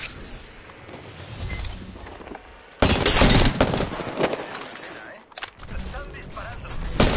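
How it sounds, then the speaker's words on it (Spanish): Bursts of gunfire from Apex Legends, a Spanish-language online battle royale, erupt loud and dense after a quieter opening, with rapid shots and impacts continuing amid game effects and players talking. "Están disparando."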